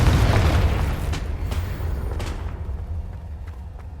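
Fire spell explosion in the video game Hogwarts Legacy: a loud booming blast at the start, decaying into a low rumbling tail with a few faint crackling pops.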